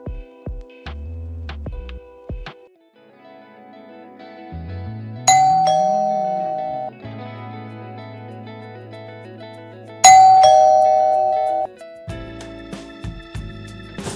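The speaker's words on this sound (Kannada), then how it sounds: "ಕಾಲಿಂಗ್ ಬೆಲ್ ಆಗ್ತಿದೆ, ಕೇಳಿಸ್ತಾ ಅಲ್ವಾ?" A doorbell rings indoors in a home, sounding two electronic chimes several seconds apart over a low humming, throbbing tone, with no talking.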